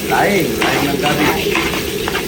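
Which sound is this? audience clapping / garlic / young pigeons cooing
garlic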